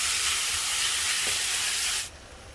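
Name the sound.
beef browning in a hot pan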